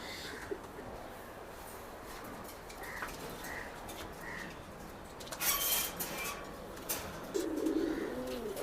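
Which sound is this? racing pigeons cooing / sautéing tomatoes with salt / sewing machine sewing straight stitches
racing pigeons cooing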